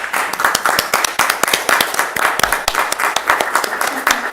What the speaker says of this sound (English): Did you hear our round of enthusiastic and heartfelt round of applause?